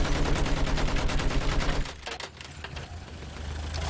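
Rapid automatic gunfire in the World War I shooter game Battlefield 1 on the Suez map, a dense loud burst of shots that cuts off partway, leaving quieter distant battle rumble.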